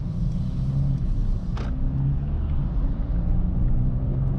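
A Mercedes A35 AMG from 2025 drives smoothly with a steady, low engine and road rumble heard from inside the car. No one speaks.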